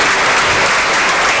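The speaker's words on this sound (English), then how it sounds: "Richard, you guys just have to clap one more time." An audience at a fintech event on financial inclusion claps loudly and continuously, a dense close burst of many hands with no voices over it.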